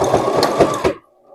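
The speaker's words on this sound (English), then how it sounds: "we're going to stitch this together with the zigzag stitch" A sewing machine runs a zigzag stitch through clothesline rope and fabric for an Easter basket, a loud rapid mechanical whirring with rhythmic clacks before stopping abruptly near the end.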